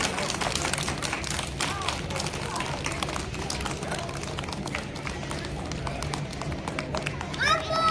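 Applause from the audience at a school's annual results ceremony for nursery to UKG classes, a dense steady patter of many hands lasting throughout, with a voice speaking over it.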